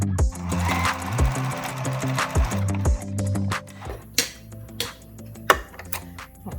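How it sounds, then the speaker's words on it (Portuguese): Sewing machine stitching a tight zigzag buttonhole on a curtain tieback, running in a fast, steady mechanical chatter with brief pauses and clicks as the needle stops, close and clear. "Eu coloquei o ponto zigue-zague bem apertadinho pra ele fazer o quadradinho normal."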